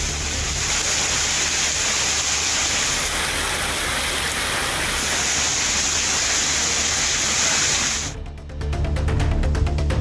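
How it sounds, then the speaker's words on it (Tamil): Heavy evening rain in Nagercoil, Kanyakumari district, pours in a dense, constant roar of droplets close by. It cuts abruptly near the end into a different steady downpour. "கன்னியாகுமரி மாவட்டம் நாகர்கோவில் சுற்றுவட்டாரத்தில் மாலை நேரத்தில் பலத்த மழை பெய்தது."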